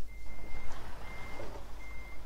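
Euro Truck Simulator 2 truck gives off regular high reversing beeps over a low engine rumble, steady and moderately loud, with no one talking.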